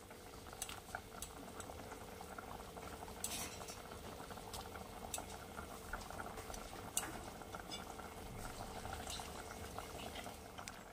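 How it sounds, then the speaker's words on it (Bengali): Bengali bata fish curry broth with fried eggplant bubbles gently in a pan, a faint continuous simmer with soft pops and occasional light metallic clinks. "ঝোলটা ফুটে উঠেছে"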